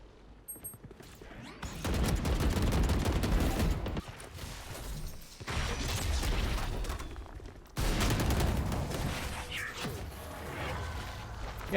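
Gunfire in the shooter game Valorant comes in three dense, loud bursts of rapid shots, each a couple of seconds long, separated by short quieter gaps.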